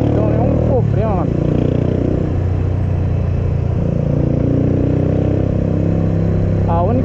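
A 2010 Yes 125 motorcycle ridden through São Paulo, its steady mid-pitched engine droning loudly and continuously up close, with someone talking over it throughout.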